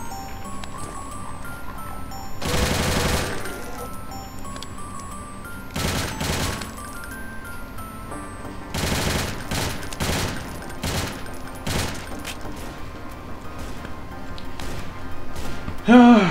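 Bursts of rapid gunfire from Doom Sigil played in GZDoom, loud volleys breaking out at intervals over a steady background of game noise and clicks.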